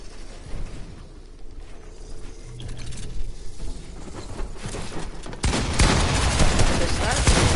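Rapid submachine gun fire in a video game, fast bursts of shots under a busy game backdrop that swell into loud, dense, continuous firing for the final couple of seconds.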